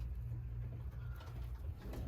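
A dark check pigeon cock gives a low, soft, rumbling coo that repeats steadily for about two seconds, close by, against a murmur of loft noise.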